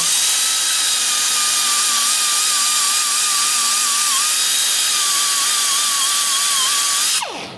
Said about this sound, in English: I'm going to deburr the area around where we drilled